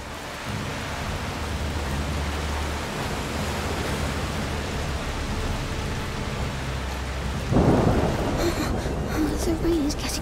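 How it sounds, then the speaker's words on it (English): Steady rain hisses through a thunderstorm in the game A Plague Tale: Requiem, a constant wash with a low rumble near the start and a louder burst toward the end. "The rain is getting worse."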